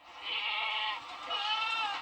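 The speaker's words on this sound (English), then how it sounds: "hundreds of goats have found their calling" Goats grazing on a strip of land beside the Sacramento River bleat in two long, wavering calls back to back, close and clear, with no talk over them.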